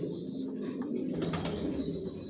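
Soft cooing of racing pigeons murmurs steadily in a loft, several birds overlapping, with a faint background hum and occasional rustling.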